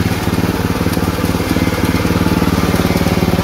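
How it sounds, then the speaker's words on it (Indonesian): A homemade coconut husk processing machine, built like a coconut grater, runs on a small purchased drive engine. It makes a steady, rapidly pulsing mechanical drone with a constant rattle, close and loud. "Ini adalah mesin yang saya buat dengan saya hanya membeli mesin penggeraknya saja, kemudian kita semua buat sendiri."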